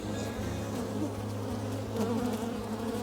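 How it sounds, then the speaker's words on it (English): A dense, continuous buzz of many bees swarming close by around an open hive during a honey harvest, steady and loud throughout with no voices. "lots of bees trying to sting"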